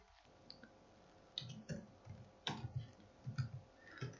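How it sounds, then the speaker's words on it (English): Keys clicking on a computer keyboard at an irregular pace, some single taps and then short bursts of presses, close and fairly quiet with no voices. "I just type here"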